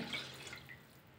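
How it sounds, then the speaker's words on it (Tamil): Water is poured into a pot of soya chunk biriyani rice, making a faint, soft, continuous splashing trickle with no talk over it. "2 கப்பு தண்ணி சேர்க்குறேன், அரிசி எடுத்து அந்த கப்பில்"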